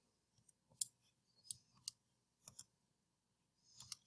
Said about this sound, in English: we're going to use our handy dandy calculator, type it in